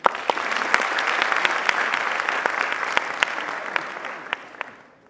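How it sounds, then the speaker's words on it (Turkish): An audience applauds the visiting guests at a business event on entrepreneurship and family companies: a dense, steady wash of clapping with a few sharp claps standing out, then fading away near the end. "alkış alalım mı?"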